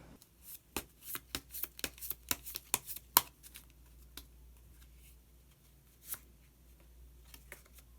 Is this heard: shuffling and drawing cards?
yes